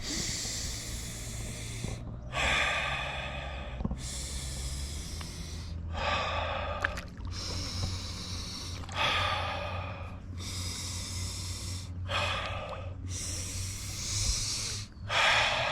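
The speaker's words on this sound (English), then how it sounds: "So let's do about 10 more of those just building breaths." Deep rhythmic Wim Hof method building breaths, each slow inhale and exhale a loud airy rush repeating about every two seconds, close and alone with no talking.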